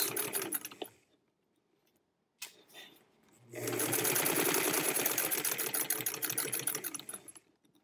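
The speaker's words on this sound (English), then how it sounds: "You are now sewing raw edge to raw edge." A sewing machine stitches fabric raw edge to raw edge on a princess dress, giving a short whir, a pause, then a long steady mechanical run of rapid needle strokes, loud and close with no talk.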